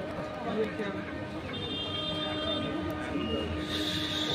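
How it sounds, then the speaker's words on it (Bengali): A train on the Rampurhat line approaches a closed level crossing near Suri, a steady broadband rumble of moderate loudness with faint high tones, and voices murmur in the background. "ট্রেন আসছে"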